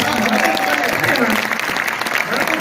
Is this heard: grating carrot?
no